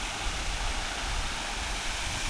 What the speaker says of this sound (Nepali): अनि यो चाहिँ खोला भयो है।